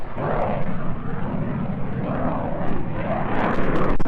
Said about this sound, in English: there was some more planes taking off